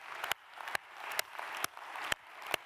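An audience at a global tourism summit applauds a team in a room, quiet and distant, with a soft wash of clapping punctuated by a few sharp, louder claps at regular intervals.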